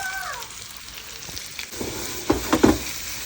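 Potatoes frying in a nonstick pan, a soft steady sizzle that gives way to a few louder tossing thumps and rattles near the end, with no voices.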